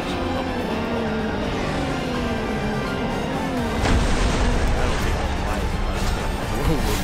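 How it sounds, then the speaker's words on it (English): Explosions boom in the video game Final Fantasy XV, a heavy blast rising a few seconds in over rumbling game noise, with a voice talking across it. "Explosions."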